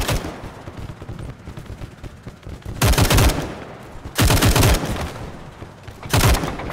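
Automatic gunfire in the WWI game Over The Top, heard as three loud bursts of rapid shots separated by quieter stretches of distant battle noise.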